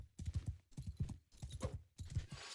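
Horse hooves clip-clop in a video game in a steady, rhythmic gait, close and clear, with short pauses between bursts of steps.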